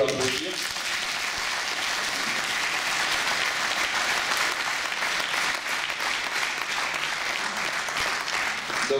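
An audience at an evening gathering honoring firefighters claps steadily and loudly for several seconds, sustained dense applause that begins abruptly and holds evenly throughout.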